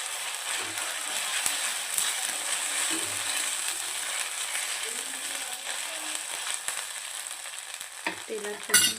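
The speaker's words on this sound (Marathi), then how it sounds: "तेलात परतून घेतला कांद्यासोबत." Ginger garlic paste fries with onion in hot oil, a continuous fizzing sizzle with light scraping of a spatula across the pan and a sharper clatter near the end, no voices.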